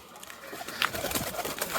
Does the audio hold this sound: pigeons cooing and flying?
yes